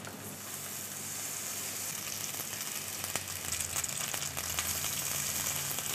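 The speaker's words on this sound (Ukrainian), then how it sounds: "Тож викладаю на пательню наші овочеві оладки." Grated zucchini and potato pancakes fry in hot oil in a pan, producing a steady, close crackling sizzle that grows slightly louder as they cook, with no voices.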